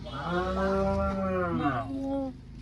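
A cow moos once in a long, loud, resonant low call that rises and falls for about two seconds at fairly close range, outdoors on a hill-country trip.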